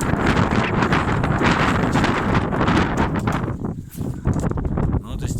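Wind buffets the microphone outdoors in strong, continuous gusts that roar loudly throughout, briefly easing near the middle, while someone talks underneath.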